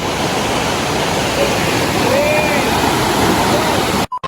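Rushing river water roars steadily and loudly, a dense continuous flow that cuts off abruptly near the end.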